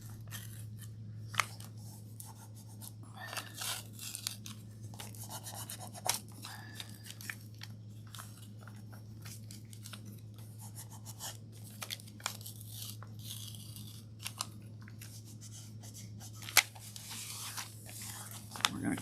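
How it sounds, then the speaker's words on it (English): A detailed stencil slowly peeled from its backing paper, giving faint crinkling and tearing rustles with scattered small snaps over a steady low hum, close by and without talk. "It can take a little bit of effort to just get it off the backing tape or the backing paper."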